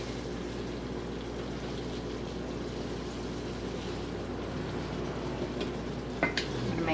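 Meat slaw with broccoli and carrot coleslaw mix simmering in a thick mushroom sauce in a pan, giving a steady soft bubbling sizzle throughout, with a few brief clinks of a utensil near the end.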